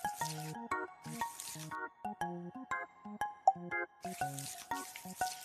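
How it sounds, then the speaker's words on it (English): A sponge scrubs dishes in a cartoon house-cleaning game, rapid squishy, wet, bubbly synthesized squelches in quick rhythmic bursts over bright chiming game music. "Clean it with the sponge."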